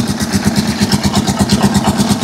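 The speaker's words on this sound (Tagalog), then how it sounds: "Medyo maingay lang siya konti kasi bago pa lang, malamig ko yung makina." A cold Rusi Chariot 175 motorcycle engine idling close by, a steady, slightly rough rhythmic chugging with a rattly mechanical edge, no talking over it.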